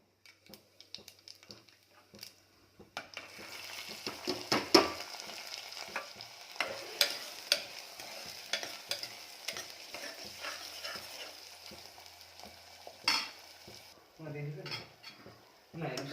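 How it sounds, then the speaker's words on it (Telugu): Mutton frying with ginger, garlic and turmeric in a pan, an irregular sizzle broken by frequent clanks and scrapes of a metal ladle against the vessel, louder in bursts and fading toward the end. "అల్లం ఎల్లిగడ్డ వేసిన, కొంచెం పసుపు వేసి ఫ్రై చేస్తున్నా"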